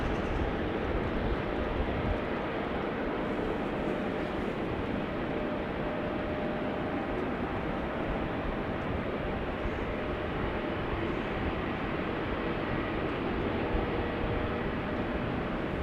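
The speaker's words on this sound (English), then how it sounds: "EasyJet casually passing by." An EasyJet airliner passes by at Amsterdam Schiphol Airport, a steady, broad jet roar that holds at an even loudness throughout without rising or fading.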